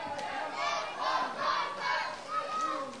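A wrestling crowd at a six-man tag team match cheers and chants in rhythmic swells, a dense roar of many voices rising and falling in waves, moderately distant.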